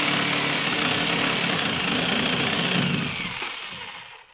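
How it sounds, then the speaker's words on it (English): Sawzall reciprocating saw cutting through a wooden loft joist, a loud, harsh buzzing rasp that holds steady and then winds down and stops near the end. "I'm going to try to make a nice cut with a Sawzall"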